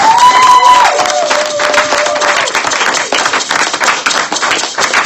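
A church congregation bursts into loud applause and cheering for Jesus, dense rapid clapping from many hands with a rising shout at the start, sustained and close throughout.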